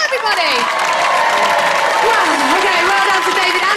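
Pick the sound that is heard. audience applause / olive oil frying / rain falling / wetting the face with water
audience applause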